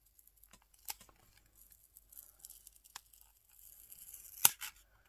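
A small gift package is opened gently, with quiet, sporadic paper tearing and crinkling, soft rustles building to a sharper rip near the end, all faint and close with no speech.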